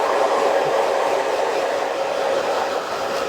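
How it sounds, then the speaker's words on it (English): Steady, loud rushing blow of a hair dryer fitted with a nozzle, air blasting through hair during a short haircut, continuous and close with no talk. "when you use the nozzle and you blast the hair straighter"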